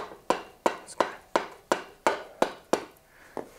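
A hammer taps an axle spacer into place on a Honda CB450T motorcycle, giving eight sharp metallic knocks at a steady, slightly uneven rhythm, close up and without talk.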